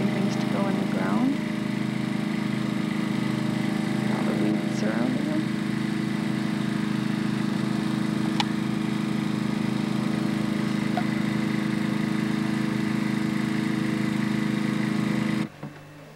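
Lawn mower engine droning steadily at a distance throughout a suburban yard scene, a constant hum with a few faint chirps and knocks, stopping near the end.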